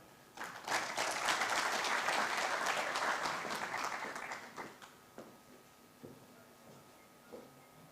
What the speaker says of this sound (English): Another round of applause for Faith